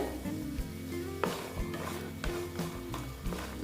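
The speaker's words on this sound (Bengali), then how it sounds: "দেখো বড়িটা প্রায় ভাজা হয়ে গেছে" Lentil bori frying in hot oil in a pan, giving a steady close sizzle broken by occasional clinks and scrapes of stirring.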